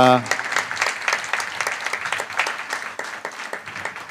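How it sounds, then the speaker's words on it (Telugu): Church congregation clapping hard in an uneven, rapid rhythm, loud and close, with a brief voice and tone at the start before the crowd's claps take over. "కొట్టవయ చప్పట్లు గట్టిగా."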